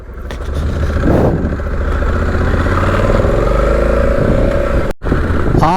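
A motorcycle rides a gravel forest road through the Kurzeme countryside, its engine droning steadily up close with rising revs and tyre crunch and clatter on loose stones, one brief dip in the noise near the end.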